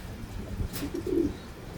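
Racing pigeon chicks give a few soft, low coos close by over quiet background noise, with a brief rustle just before them.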